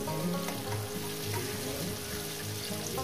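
Okra frying in hot oil in a pan, giving a dense, continuous close-up sizzle with a few faint stirring scrapes and no voices.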